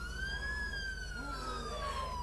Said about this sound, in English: Let's put the siren on just to